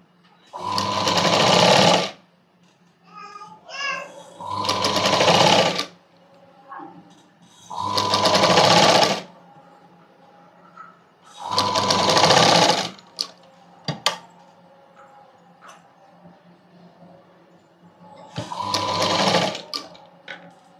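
Sewing machine stitching the original cloth of a padded blouse to its lining: five loud, close bursts of rapid mechanical whirring, each a couple of seconds long, separated by quieter pauses with faint handling clicks.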